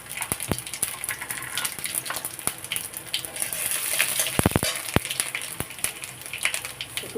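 Panch phoron spices sizzling in hot oil give a steady close hiss, broken by scattered pops and crackles and a brief cluster of sharper snaps, with no voices.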